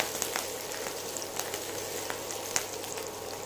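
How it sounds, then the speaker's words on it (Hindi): Ginger paste and green chillies fry in oil in a pan, making a quiet, even crackling sizzle with a few faint pops and light stirring clicks. "अदरक का पेस्ट, हरी मिर्च डालकर 1-2 मिनट के लिए भूनेंगे"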